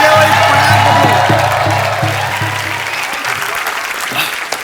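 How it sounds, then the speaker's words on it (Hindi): Warm, dense applause from a studio audience at a TV comedy talk show, loud at first and slowly tapering off, with a music cue playing beneath it. "सो एक बार जोरदार तालियां हो जाएं"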